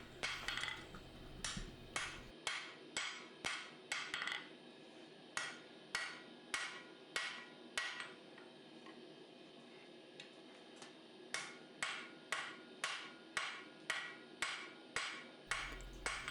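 A hammer strikes a dagger blank on an anvil to forge the bevel, ringing in quick rhythmic bursts of blows separated by short pauses, close and clear.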